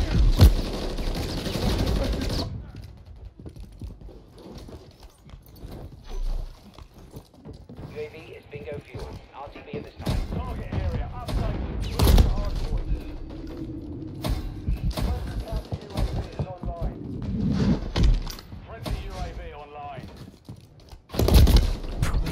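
Gunfire in the video game Call of Duty MW3, sporadic bursts and sharp reports mixed with in-game radio chatter and voices, with spoken talk throughout.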